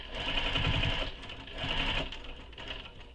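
A sewing machine stitches binding around the edge of a quiver sling in two or three short, close bursts of rapid stitching.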